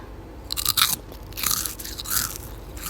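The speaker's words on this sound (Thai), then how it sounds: "กินไอศีริมหมดแล้วคำสุดท้าย" Close crunchy bites into the last piece of Nestlé and Wall's mochi ice cream, a few crisp crunches followed by softer chewing and rustling, with no talking.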